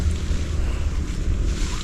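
Wind blows outdoors on a hot day, a continuous low rumbling buffet against the microphone with no talk.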